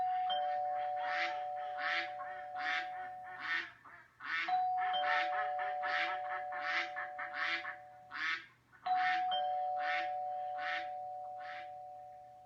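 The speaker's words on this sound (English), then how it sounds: "did anybody hear a duck?" Repeated duck quacks play from a sound book in a steady rhythmic series, broken into three runs with brief pauses, accompanied by a sustained electronic tone, fairly quiet and with no voices.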